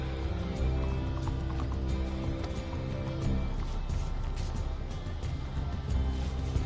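Several horses moving about, hooves clip-clopping in a steady, busy patter over a low, continuous background rumble, moderately close and fairly quiet, with no clear voices.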